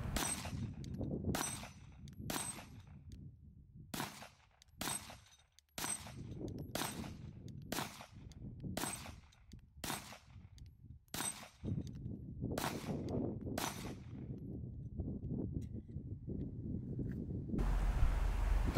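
Glock Gen 5 pistol fired repeatedly at a range, about a dozen sharp, loud shots at a steady, slightly uneven pace over low background rumble, with a brief pause midway.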